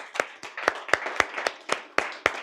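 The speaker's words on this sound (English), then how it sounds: "Round of applause." Slow, sparse clapping from a small group at an agent training session, about nine distinct, evenly spaced claps, fairly close.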